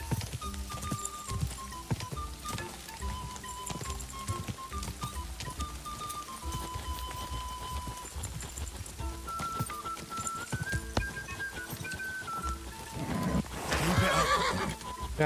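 Rhythmic hoofbeats of a galloping horse in a race in the video game Kingdom Come: Deliverance 2, under steady game music, with a whinny rising near the end; fairly quiet overall.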